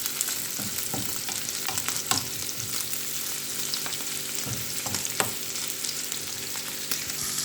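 Liver sizzling in a hot pan while being stirred, a steady close frying hiss broken by repeated scraping and clacking strokes of the utensil.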